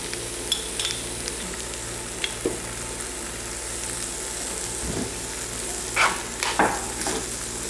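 Vegetable macaroni mixed with ketchup and tomato sauce in a hot pan, a low continuous sizzle with occasional spoon scrapes and knocks as the mixture is stirred, louder bursts of stirring near the end.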